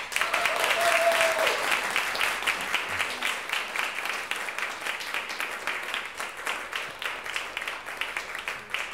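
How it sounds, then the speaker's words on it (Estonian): An audience applauds at an award ceremony at the Estonia Theatre, with dense, sustained clapping that stays loud and steady for the whole stretch. A brief voice is heard near the start. "Aitäh teile ja ka aplaus neile."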